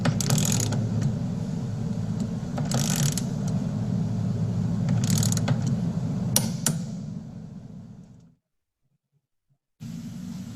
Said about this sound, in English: A 200 Newton meter wrench, such as this one, can easily produce up to 1000 Newton meters of torque output when connected to this 5:1 multiplication ratio gearbox